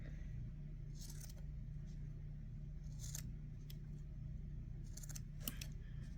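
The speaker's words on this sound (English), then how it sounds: "And I'm going to cut and move all that excess stuff." Scissors trim excess yarn on an Ashford frame loom, several quiet crisp snips scattered in small clusters over a low steady room hum, with no speech.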